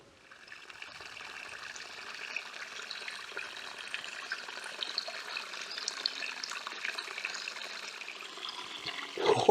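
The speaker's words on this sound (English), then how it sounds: "Water coming right out of the ground" Cold spring water bubbles and trickles straight out of the ground at a dispersed camping area, a soft continuous flowing gurgle heard nearby, with a brief louder splash at the end and no talk.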